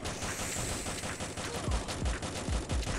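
Assault rifle gunfire in a first-person shooter's free-for-all match, heard as several sharp shots in a loose rhythm during the second half, fairly close, over steady game background noise.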